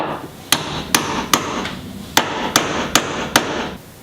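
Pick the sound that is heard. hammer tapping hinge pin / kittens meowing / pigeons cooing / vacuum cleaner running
hammer tapping hinge pin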